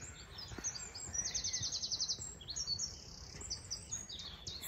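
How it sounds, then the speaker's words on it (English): Birds sing and chirp on a morning walk in Bedfordshire countryside, a bright, rapid trilling song standing out against soft outdoor background noise. "the bird song this morning was absolutely wonderful"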